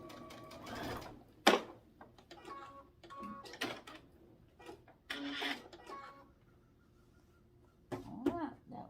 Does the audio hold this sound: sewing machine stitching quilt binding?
yes